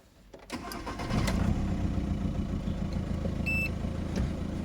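A hot VW Caddy 1.9 TDI diesel engine cranks briefly, then catches and settles into a steady, loud idle that continues to the end.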